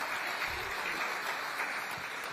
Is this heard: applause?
yes